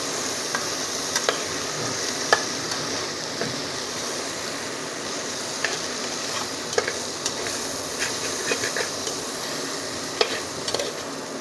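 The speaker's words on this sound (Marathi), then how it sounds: "1 चमचा लाल तिखट घालून घेऊया. आणि चमचा गरम मसाला घालून घेऊया. आणि आता याला चांगलं मिक्स करून घेऊया." Red chilli powder and garam masala being stirred in a frying pan for Marathi masale bhat, a steady sizzle with irregular scraping clicks of the spoon throughout, close and moderately loud, no voices.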